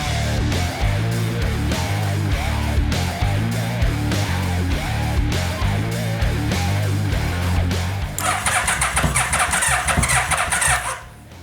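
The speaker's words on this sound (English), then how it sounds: "It helps to start a motorcycle" A Yamaha VMax motorcycle with fresh gasoline in the tank cranks and fires up, its engine churning loud and steady for several seconds before a brighter, harsher burst near the end.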